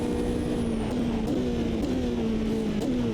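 GTE race car engine in the racing game Automobilista 2, a steady, loud drone with small pitch dips like quick shifts, heard alone with no talking.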